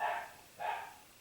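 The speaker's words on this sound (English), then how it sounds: "what is Daisy barking at?" A dog gives two quick barks, fairly faint and somewhat distant, spaced about half a second apart.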